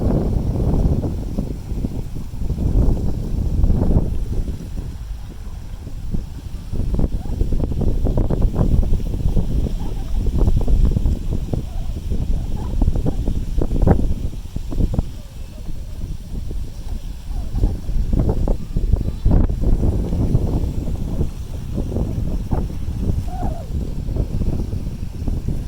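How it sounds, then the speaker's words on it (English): Strong wind buffeting the microphone on the deck of a cruise ship at sea off Bermuda at sunset, rumbling low gusts rising and falling continuously for the whole stretch. "It's wonderfully windy today, and the wind feels so good right now here at sunset."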